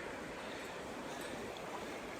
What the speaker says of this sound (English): we're down at the creek here